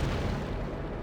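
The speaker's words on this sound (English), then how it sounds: "That main cannon is lethal." A tank's main cannon fires in the Valkyria Chronicles video game, a dense, sustained low boom filling the short span with no speech over it.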